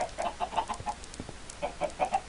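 Minecraft cave chickens give a steady run of short, clucking notes in quick rhythm, fairly close and clear with no talking.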